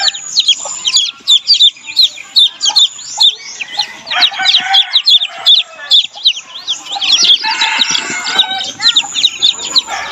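Newly hatched chicks, fourteen of them, peeping in a dense, continuous chorus of high, rapid chirps, close and loud, overlapping with no pauses across the whole stretch.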